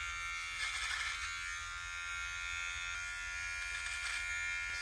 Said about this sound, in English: I'm gonna actually use this to shave my face and show you what it looks like being used right here